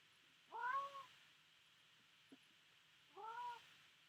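A cat meows twice indoors, a few seconds apart, each call a short clear rising-falling meow, with a faint tap between them over a quiet background hum.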